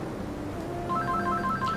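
Telephone ringing with a steady repeating electronic trill under a dense background of other sound, heard close and fairly loud.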